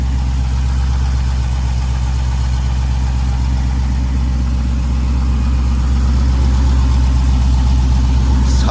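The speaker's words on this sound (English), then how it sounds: "The engine purrs like a kitten." A cammed Jeep SRT engine idles loudly and steadily up close with a lumpy, rhythmic low throb, running unchanged throughout with no talking.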